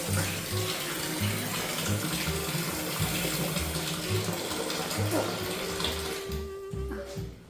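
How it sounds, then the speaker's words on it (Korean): Water gushes steadily from a tap, a constant splashing hiss, while a low rhythmic hum and brief murmurs of speech sit underneath. "어디서 물이, 물소리가 나는데 잠깐 물을 끄고 와야 되겠어"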